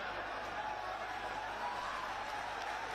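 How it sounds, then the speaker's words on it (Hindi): Crowd at a political rally in Badaun applauds: a faint, distant, continuous wash of clapping and crowd noise that stays even throughout. "जोरदार तालियों से स्वागत करें"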